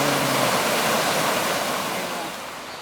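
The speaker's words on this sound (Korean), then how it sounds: "물소리, 매미 소리." Flowing water rushes in a continuous broadband roar, close and fairly loud, fading slightly toward the end.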